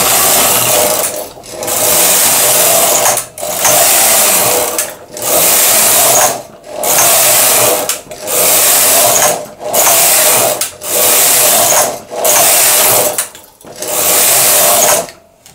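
An SK280 knitting machine knits rows as the carriage sweeps back and forth in about ten evenly spaced passes, each a loud mechanical whirring rush separated by brief quiet pauses at the row ends.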